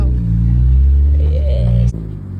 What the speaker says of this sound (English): So we've been drifting for basically the whole day